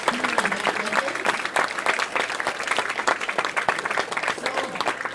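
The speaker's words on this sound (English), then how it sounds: "let's give a round of applause for this gentleman" An audience at a youth bowling awards ceremony applauds steadily, a dense, even clatter of many hands filling the room without pause.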